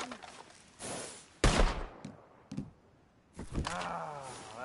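Gunfire in a PS4 video game: a few loud, separate shots and bursts with short roaring tails, spaced unevenly over quiet game ambience, no talking.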